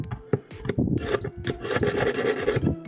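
A knife being drawn through a ceramic sharpener from AliExpress, a close, dry rasping scrape in quick repeated strokes that blur into a continuous grinding rub.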